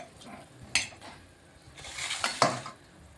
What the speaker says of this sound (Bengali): এটা ভালোভাবে ভেজে নিচ্ছি লঙ্কাটা আর এখানে একটা তেজপাতাও দিয়ে দিলাম